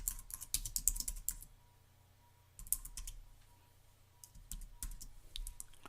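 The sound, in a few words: typing on a computer keyboard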